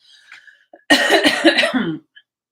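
A burst of several harsh, loud coughs close by, coming in quick succession after a few faint sounds, then silence.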